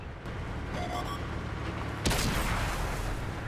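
Tank gun shot from a Panther in World of Tanks, a single loud boom partway in, standing out over steady engine rumble and ambient battle noise.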